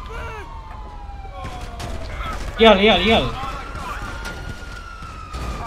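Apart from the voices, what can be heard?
police car sirens in GTA V video game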